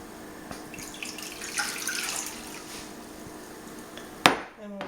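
Sixteen ounces of water for bread dough run from a tap in a kitchen, a soft continuous splashing stream that swells in the middle, then a sharp clunk and a brief ringing ending.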